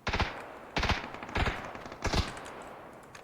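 Four sharp bursts of automatic gunfire from the PUBG Battlegrounds video game, each a quick rattling volley, spaced evenly across a few seconds with brief quiet gaps between.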